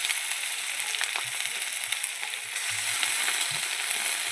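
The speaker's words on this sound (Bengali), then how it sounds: "এবার আদা রসুন পেস্টটা আমি দিয়ে দিলাম, জিরে পেস্টটাও দিয়ে দিলাম।" Ginger-garlic and cumin paste fries in hot oil for a spicy fish curry, with a steady, close, hissing sizzle and a few soft low bumps from stirring.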